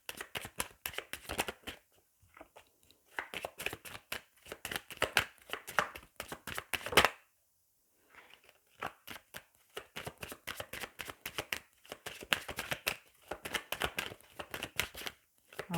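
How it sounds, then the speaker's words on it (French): A Tarot de Marseille deck being shuffled by hand, with repeated crisp riffles and card slaps in quick bursts, close and fairly quiet, broken by one short pause partway through. "Alors, on va bien mélanger le jeu."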